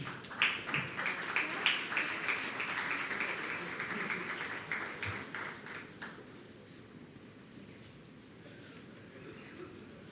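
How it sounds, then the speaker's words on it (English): Audience applause for dignitaries on the dais at an MMA annual convention: a dense, steady wash of clapping that holds for about six seconds, then fades into a quieter, thinner patter. "a big round of applause to the dignitaries on the dais"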